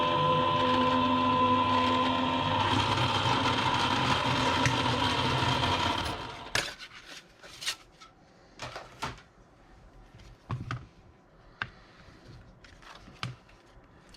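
A Gemini die-cutting and embossing machine runs with a steady loud mechanical whir and hum for about six seconds. It then stops, and sharp handling clicks and knocks follow against a quiet background.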